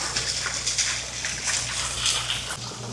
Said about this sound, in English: You got a little waterfall here. There's another waterfall here.